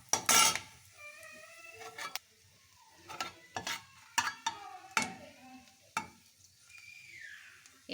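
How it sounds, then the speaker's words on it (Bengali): Dry red chillies tempering in hot oil, a soft sizzle broken by sharp clinks and scrapes of a spoon stirring against the pan, several distinct strikes spaced through the clip. "ফোড়নে দেব শুকনো লঙ্কা"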